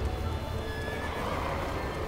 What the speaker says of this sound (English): I need my horse.